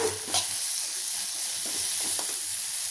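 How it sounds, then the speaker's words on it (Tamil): Garlic and ginger paste sautéing in a pan, a continuous close sizzle with soft stirring scrapes throughout. "கொஞ்சமாக பூண்டு விழுது அடுத்து கொஞ்சமாக இஞ்சி விழுது போட்டுக்குவோம் போட்டு இதில் நல்லா வதக்கிடுவோம்"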